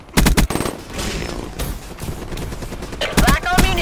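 Gunfire in the video game Black Ops 3 comes in loud, rapid automatic bursts at the start and again near the end, with a busier, noisier battle stretch between.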